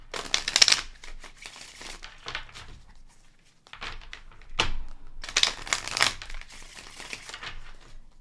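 Well-worn tarot cards are shuffled by hand in several bursts of crisp papery riffling and crinkling, close and fairly quiet, with short pauses between shuffles.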